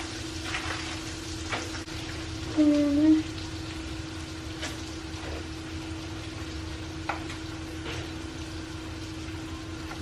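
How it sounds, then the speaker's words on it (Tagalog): Shrimp frying in a home kitchen pan, a steady soft sizzle that continues throughout, with a brief spoken word partway through. "Magluto na ako ng shrimp na."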